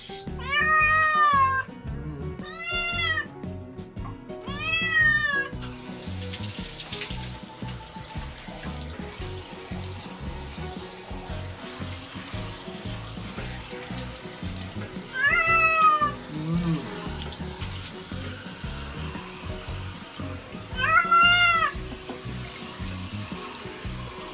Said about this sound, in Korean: 물이 세서 아플 것 같은데.